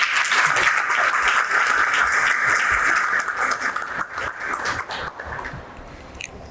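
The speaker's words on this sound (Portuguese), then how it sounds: "Eu queria então pedir a todos aqui aplausos de boas-vindas a Daniela Zupo e a Anelisa Ribeiro." An audience at a literary meeting applauds to welcome speakers, bright steady clapping for several seconds that thins out and fades toward the end.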